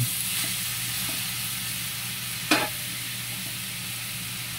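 Chicken pieces stir-fried in a pan for pansit canton, a steady broadband sizzle holding throughout with a sharp clatter of a utensil near the middle, close and fairly loud, no talking.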